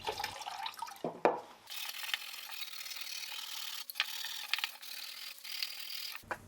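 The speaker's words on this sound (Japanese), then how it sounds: "これはブラシとかけずに普通に洗浄液で洗っていきます。" A Mazda RX-7 FD3S intake manifold, surge tank and water pipe are washed by hand in cleaning solution, with close rubbing, swishing water and occasional sharper scrapes over a faint steady hum and no voices.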